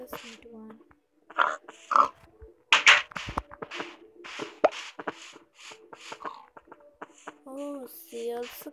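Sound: pig oinking in Minecraft video game

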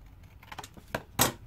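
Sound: cutting out a small paper triangle

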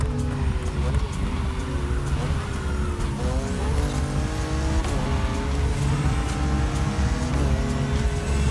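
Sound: race car engines in a video game

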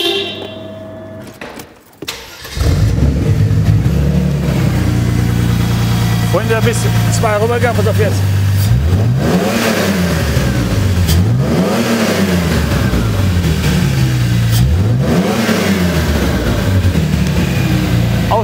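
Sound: car engine revving loudly with exhaust removed

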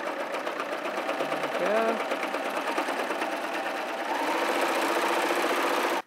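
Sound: sewing machine stitching fabric

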